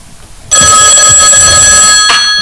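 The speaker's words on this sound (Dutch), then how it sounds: "Telefoon." Loud electronic telephone ring breaks in suddenly after a quiet start, a continuous bright trilling tone held steady with a brief jolt near the end.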